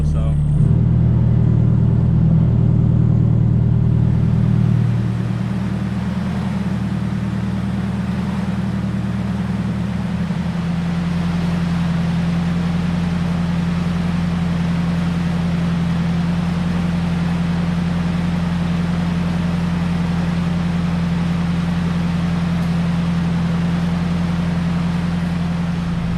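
A Nissan S14 engine idles steadily while warming up, a continuous low hum with a brief louder rumble at the start that settles into an even drone, heard up close with no talking.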